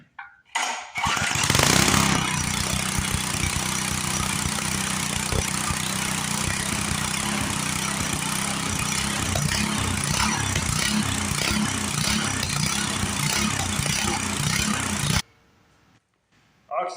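A running engine being fed pure oxygen drones loudly and steadily for about fourteen seconds after a brief start, then cuts out abruptly into near silence.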